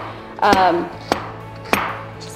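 A knife chops vegetables on a cutting board in three sharp, separate strokes, close and fairly loud, with a brief voice near the start.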